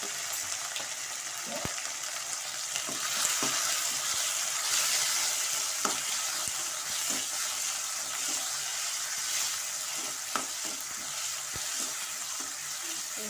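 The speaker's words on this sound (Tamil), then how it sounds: "ஒரு தக்காளி, அது முதல்ல நல்லா நம்ம வதக்கிக்கலாம்" Tomato sautés in a pan for a drumstick and brinjal curry, a constant frying sizzle broken by scattered clicks and scrapes of a spoon stirring against the pan, close and moderately loud.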